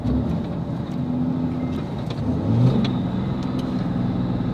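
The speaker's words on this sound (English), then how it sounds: "how do you like that rev match downshift?" Third-generation Cummins diesel pickup truck with an upgraded high-horsepower transmission, a rev-match downshift inside the cab: a steady engine drone with a brief rising blip in the middle, then settling back into a low rumble.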